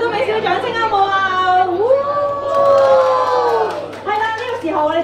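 An audience at a film premiere applauds and cheers, a steady crowd roar with rising whoops and shouted voices carried over continuous clapping throughout.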